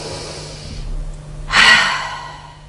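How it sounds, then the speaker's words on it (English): A slow audible exhale followed by a sharp, deep inhalation taken during a singing breath-control exercise, close and breathy, heard alone without talking. "breathe a big, deep breath"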